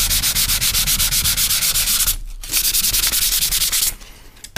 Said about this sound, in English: I probably was sanding for about 10 minutes